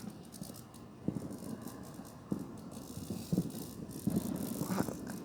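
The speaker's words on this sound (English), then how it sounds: "That's the bug" An insect rattles at night during a 4th of July gathering: a dry, scratchy buzz with irregular clicking bursts, faint and close, over a hissy background, with no one speaking.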